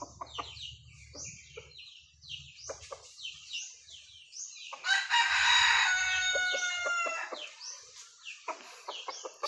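A wild junglefowl (labuyo) rooster crows loudly and close, one long drawn-out call with strong harmonics in the middle, framed by clucking and chirping from other birds and a low rumble at the start.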